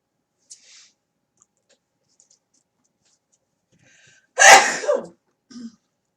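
A single loud, sharp sneeze bursts out after near silence, preceded by faint small clicks and followed by a short soft sound.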